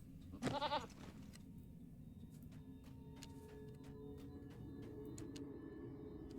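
A goat mount in the online game Lord of the Rings Online gives one short, quavering bleat near the start, then the scene settles into quiet ambient game sound with faint clicks.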